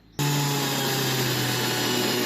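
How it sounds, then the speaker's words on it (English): A Dremel rotary tool cutting plastic for a Lego battery cover starts abruptly, then holds a loud, steady high-pitched motor whine close by, with no speech. "So the old Dremel there doesn't exactly cut it"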